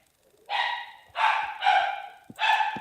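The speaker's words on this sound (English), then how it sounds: "Hey, whose dog's that?" A dog gives four short, loud barks in an even rhythm, close by, with brief pauses between them and no talking over them.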